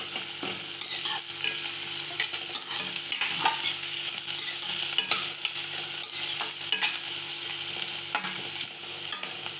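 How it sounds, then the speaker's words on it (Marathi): Onion sautéing in a pan for a Maharashtrian ghevda (flat bean) bhaji, a steady close sizzle broken by frequent scraping stirs across nearly ten seconds, with no talking. "आता आपण कांदा शिजवून घेऊया"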